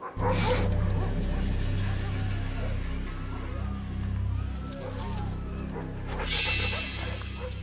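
Sled-type dogs bark at an approaching polar bear, sharp yelps and barks in bursts over a heavy low rumble of wind or motion, with some distant high cries near the end.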